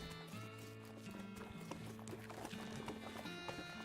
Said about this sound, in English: Here's my crazy horse. Sonny whinnies as you approach.